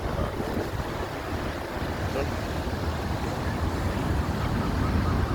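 Atlantic Ocean surf at Sea Point, Cape Town, on a bitterly cold day, a continuous broad roar of breaking waves mixed with wind buffeting the microphone, loud and close, with no pauses.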